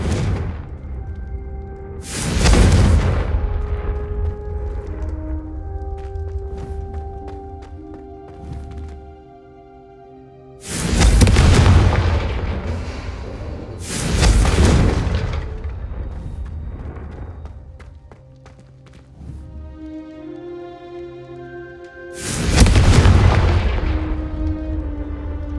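Confringo fire spells cast in the video game Hogwarts Legacy, three heavy booming blasts spaced several seconds apart, each with a sharp crack and a long rumbling tail fading under a sustained orchestral musical score.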